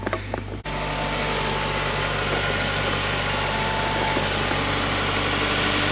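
Honda Accord engine idling steadily just after starting, a loud continuous hum with a low drone and faint whine, heard alone without talk.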